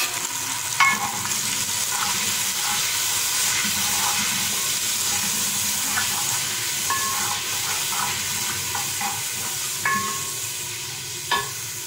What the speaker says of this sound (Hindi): उसका मसाला भूनेंगे